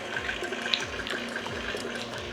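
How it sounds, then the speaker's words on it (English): White wine poured into cannoli mix as a steady, close liquid trickle, continuous and fairly quiet throughout with no voices. "we're gonna add a 1/3 cup of white wine."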